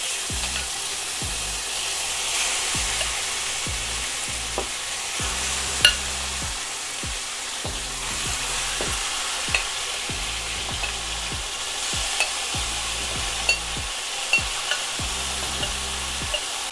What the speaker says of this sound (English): Now that the oil is hot, we are going to add the beef in there so it can cook.